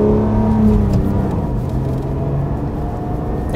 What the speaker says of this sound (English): So let me rev the engine up,